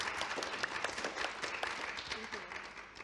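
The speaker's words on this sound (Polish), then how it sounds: "Brawa." At an awards gala, an audience claps in a loose, uneven patter of individual hand claps, moderately quiet and slightly thinning toward the end, with a few voices briefly audible.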